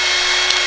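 A battery-powered pipe expansion tool runs with a steady, loud motor whir and faint humming tone, heard briefly and up close without talk.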